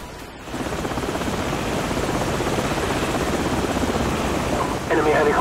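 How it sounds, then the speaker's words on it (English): Helicopter rotors in the video game Modern Warfare thump in a fast, continuous beat, loud and close, holding steady, with a brief voice at the very end. "helicopters."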